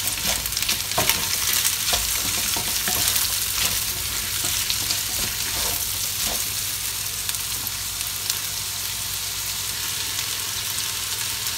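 Garlic and onion sautéing with meat for a fresh lumpia filling, giving a loud, continuous sizzle close to the pan with frequent scraping stirs in the first half.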